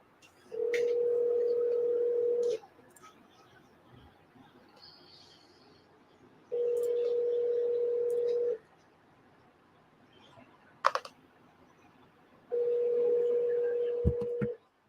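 A telephone line rings through a handset after a number is dialed. Three long, steady low tones come at even intervals, with quiet gaps and faint clicks between them.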